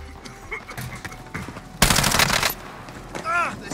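Video-game gunfire bursts out loud and dense for under a second, with a shooter game's chatter and effects around it and a rising whistle-like sweep near the end.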